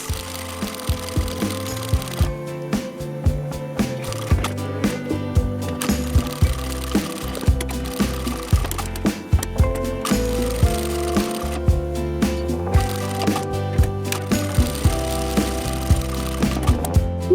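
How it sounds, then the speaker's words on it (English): A sewing machine stitches the side seams of a fabric drawstring bag, a loud, steady mechanical whirring broken by short stops and restarts over many seconds. "Now sew down both side edges"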